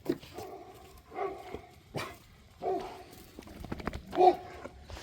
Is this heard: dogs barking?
yes